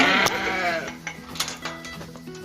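A Dorper sheep on a ranch in Weiser, Idaho gives a loud, wavering bleat up close, followed by quieter clanks and shuffling from the pen.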